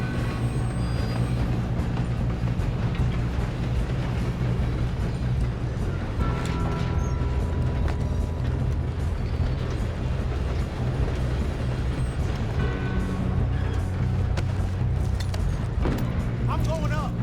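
A moving train in Red Dead Redemption 2 rumbles steadily with rattling, clanking carriages throughout, a continuous dense mechanical roar with occasional creaks, while voices talk over it.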